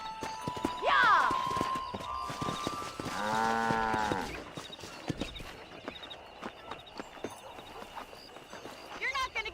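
Horse hooves clip-clop in the Red Dead Redemption video game on a cattle-herding ranch, a brief clattering run of steps amid ranch ambience, with cattle lowing nearby and a voice speaking.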